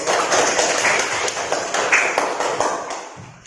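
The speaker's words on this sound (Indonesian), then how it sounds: "Kita beri tepuk tangan untuk semuanya." Classroom of students clapping for their classmates' posters on saving energy, a dense burst of many hands that stays loud and steady before thinning toward the end.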